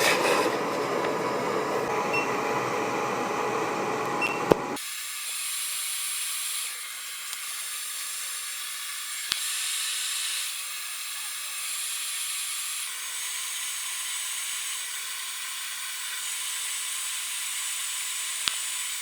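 A LaserPecker LP5 laser cuts through 3mm plywood, starting with a broad noisy burst and then settling into a steady, thin mechanical whir with faint clicks, continuous and moderately quiet.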